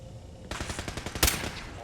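Gunfire in the video game Fallout 4 comes as a rapid burst of sharp shots that then ends in one louder crack of a headshot, heard fairly close with no talking over it.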